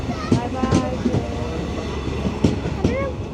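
A train rumbles steadily as it pulls away from Panvel bound for Mangalore, with periodic clacks and faint voices in the background.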